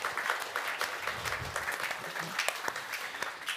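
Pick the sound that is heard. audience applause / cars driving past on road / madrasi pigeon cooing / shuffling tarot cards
audience applause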